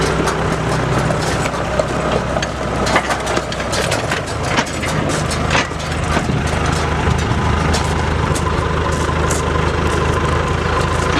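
A tractor engine idles and runs steadily while hitched to a New Holland 256 five-bar rake with a dolly wheel, a constant loud mid-low drone with faint clanks on top and no talk.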